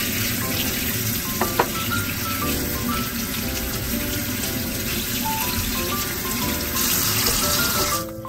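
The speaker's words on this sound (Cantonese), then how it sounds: "咁瘦肉飛完水之後呢，就可以用清水去沖返乾淨佢" Running tap water rinses blanched lean pork in a kitchen sink, a steady splashing stream with some clinks and a brief louder gush near the end, no voices heard.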